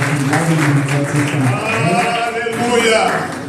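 A church congregation applauds during a service, a steady patter of clapping from many hands that continues under a speaking voice for the whole moment.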